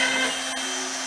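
A CNC router cutting whines at a constant high pitch with a steady hum underneath, close by and unbroken, with a brief click midway.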